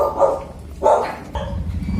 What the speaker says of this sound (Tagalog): pasensya na kayo kung maingay ang mga aking alagang aso kasi may tao sa labas